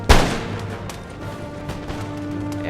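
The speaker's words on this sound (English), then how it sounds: "the Grenadiers are firing their muskets" Infantry and grenadiers fire muskets in an Empire: Total War battle between Great Britain and the United States: one loud, sharp crack opens, then scattered fainter shots follow under a sustained battlefield rumble.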